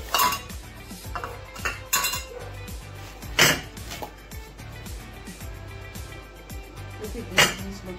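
Cutlery clinks and scrapes against plates and pans as food is dished out, with several sharp metallic knocks spread across a steady kitchen background.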